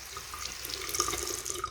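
Tap water runs steadily into a sink while a makeup brush is rinsed under it, with soft splashing and a few brighter drips over the constant flow.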